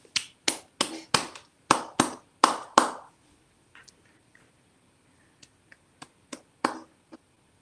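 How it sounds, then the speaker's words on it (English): Several sharp claps in a quick run, close and loud, then a pause followed by a scattering of quieter, more spaced claps, as people clap for carers and key workers during lockdown. "we'll just take a little pause to clap for our carers, clap for the key workers"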